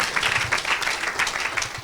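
Applause and scattered clapping from a congregation at an evangelical church service, a steady continuous patter filling the room for a couple of seconds with no voices over it.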